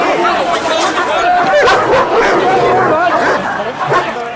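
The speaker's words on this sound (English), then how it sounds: "Just the noise of police dogs and the strength of them, you know, can be a tactic to move the crowd and disperse a crowd back." Police dogs bark loudly and repeatedly at a crowd during public order policing, with rapid, insistent barks and a few whimpers over constant crowd chatter and shouting voices.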